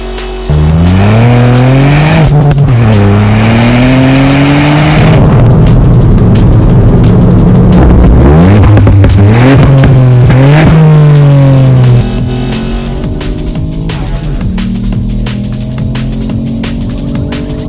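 A 2022 Ford Fiesta ST Mk8.5 engine revs hard and loud, climbing and falling through repeated sweeps with possible tire squeal, then settling into a lower steady drone.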